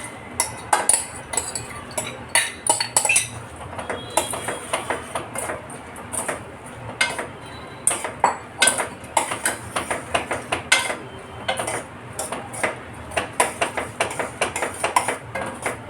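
Boondi is stirred into sugar syrup in a metal pan, with rapid, irregular clinks and scrapes of a spoon against the pan continuing throughout. The clatter is close and fairly loud.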